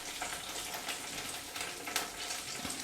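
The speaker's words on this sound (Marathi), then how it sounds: "तर सर्व पनीर आपण भाजून घेऊया." Cubes of paneer fry in oil for chilli paneer, giving a soft, even hiss and sizzle with faint bubbling crackle, steady for a few seconds with no talking.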